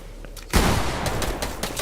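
Pump shotgun blasts and surrounding gunfire in a Fortnite battle: one sharp, loud shot opens a rapid scatter of further cracks from the firefight.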